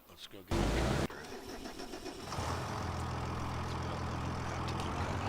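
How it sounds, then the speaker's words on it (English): A tractor engine cranks over in a farming video game, a loud starter burst followed by the engine catching and settling into a steady, even idle. "Let's go get the tractor."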